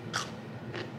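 Small pickled cucumbers bitten with two crisp crunches, one near the start and a softer one about half a second later, close to the mic with no talk.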